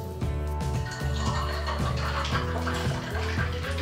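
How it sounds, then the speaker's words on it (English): Soda water poured over a cup of ice and double-concentrated hibiscus (zobo) concentrate, a steady close fizzing, splashing pour running throughout with faint clinks of ice. "top with just bog standard soda water"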